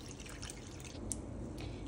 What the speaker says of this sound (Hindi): तो दाल के हिसाब से पानी थोड़ा कम लग रहा है, तो थोड़ा और ऐड कर दूंगी मैं।